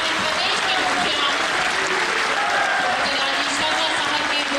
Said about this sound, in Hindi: एक बार सभी से खड़े होकर अपने स्थान पर खड़े होकर जोरदार तालियों के साथ अभिनंदन करें